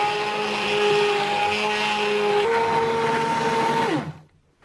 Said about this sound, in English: now I'm going to blend it with my stick blender.